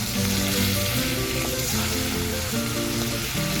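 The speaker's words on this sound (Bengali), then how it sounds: "মাছগুলো ভাজার জন্য আমি তেলের মধ্যে মাছগুলো এক এক করে ছেড়ে দিলাম" Pieces of rohu fish fry in hot mustard oil with a loud, continuous crackling sizzle heard close up, steady throughout with faint tonal sounds underneath.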